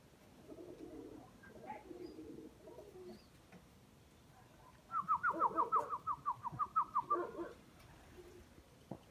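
A pigeon cooing at night, a near run of rhythmic low coos in a burst of repeated notes after a quieter stretch of soft rustling and faint calls.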